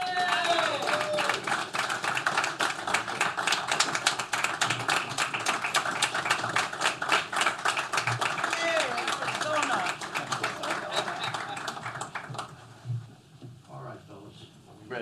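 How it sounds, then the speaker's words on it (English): A room full of people claps and applauds for several seconds, with some cheering voices, before the clapping dies away into quieter chatter. "So that deserves a round of applause."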